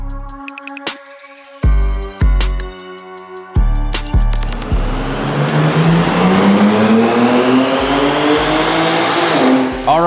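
A BMW M2 with the S58 engine on an E30 tune revs on a dyno: sharp, loud blips at first, then a sustained full-throttle pull climbing steadily in pitch, heard up close.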